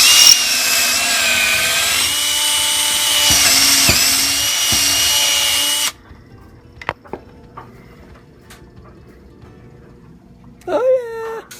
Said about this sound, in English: I'm going to use that hole as a pilot hole to drill through the board in the house